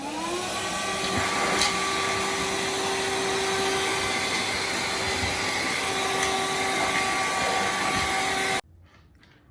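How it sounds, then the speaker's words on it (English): A VacLife cordless handheld vacuum cleaner runs steadily at close range with a constant motor whine, then cuts off abruptly near the end. "The vacuum is also easy to operate. All you have to do is press the button to turn it on."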